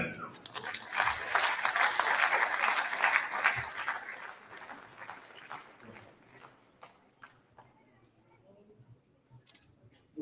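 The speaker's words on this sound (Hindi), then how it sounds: "तालियां।" A crowd claps, loud and dense at first, then thins out into scattered claps that fade away, with some voices mixed in.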